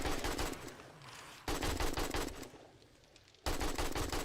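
A weapon in 7 Days to Die fires in two long automatic bursts, loud rapid shots hammering close by, separated by a quieter pause while echoes trail off.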